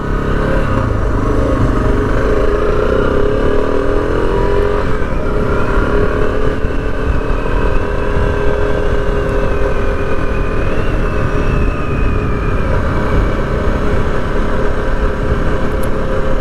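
A 2016 Suzuki DR650 with a carbureted engine runs loud and close, holding a steady rumbling idle with a slight rise in pitch partway through and no voices.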